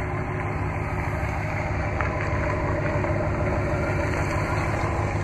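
2013 RAM 1500 Crew Cab Big Horn pickup with a 5.7 liter Hemi V8 and factory dual exhaust, idling in a steady low rumble that stays constant and even throughout, no talking.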